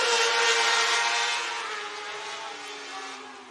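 Outlaw Mini Mod race cars at Kossuth County Speedway in Algona, Iowa, roaring off together at the green flag, a loud engine drone that slowly fades as the pack moves away, no talk.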